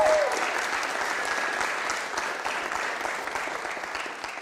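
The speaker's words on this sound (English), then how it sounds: "Give them a round of applause." Audience applause for award-winning youth swimmers at a Fresno city council meeting, steady sustained clapping from a seated crowd that holds level throughout and fades only slightly toward the end.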